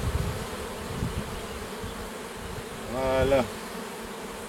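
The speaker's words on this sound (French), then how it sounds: "les abeilles se poussent" Small swarm of honeybees being moved into a Japanese hive, a steady close buzzing throughout that swells briefly near the end, with a single short spoken word.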